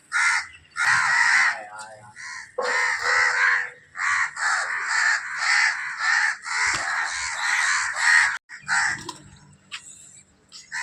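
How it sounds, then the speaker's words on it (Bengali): Crows caw repeatedly on a rooftop where bread and puffed rice are put out for them, loud close harsh calls in quick overlapping bursts that fill the clip with only brief pauses. "কাকেদের জন্য রুটি আছে।"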